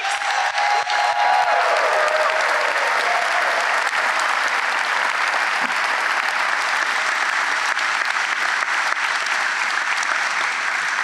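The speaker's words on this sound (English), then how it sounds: "How about a big round of applause for the class of 2026?" Graduation-ceremony crowd at Greensboro Day School gives the class of 2026 a loud, sustained round of applause, dense and steady from start to finish with no voices over it.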